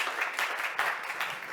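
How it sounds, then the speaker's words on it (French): A conference audience applauds after a talk on art and machine learning. The brief, fairly soft burst of many hands clapping swells and fades in uneven waves. "Sofiane Audry, on l'applaudit une autre fois."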